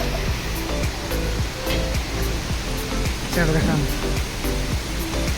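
Heavy rain pours down on the way to work, a loud, continuous dense roar that fills the whole stretch, with a brief voice speaking over it.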